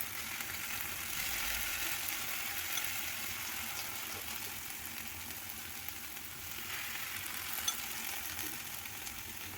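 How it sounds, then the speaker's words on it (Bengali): Rice flour batter fries in a pan with a soft, continuous sizzle, fairly quiet and steady, with no voices. "আস্তে আস্তে এতে ব্যাটারটা দিয়ে দিতে হবে"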